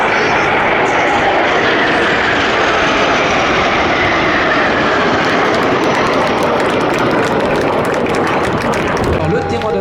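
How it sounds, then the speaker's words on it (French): Patrouille de France jets passing over an airshow in formation, a loud, sustained roar that swells and slowly fades as the aircraft pass. "3 avions parfaitement alignés qui s'apprêtent à traverser la première formation"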